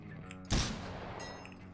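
A single loud gunshot bursts out in the Kavga Simulator fight game, sharp and close, with a short ringing decay after it and faint game sounds around it.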